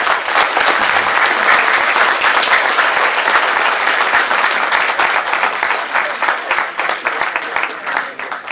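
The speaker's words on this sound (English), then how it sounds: "can we have a great round of applause for Mr. Deepak?" Sustained applause from an audience at a university talk with J. Sai Deepak at JNU, dense and steady clapping filling the whole stretch, loud and close, easing slightly toward the end.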